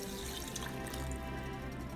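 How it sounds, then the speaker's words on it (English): Milk pours steadily into a flour paste mixture in a home kitchen, a continuous liquid splash and trickle lasting the whole moment, close and even, with no talking. "So now I'm going to pour the milk into this mixture."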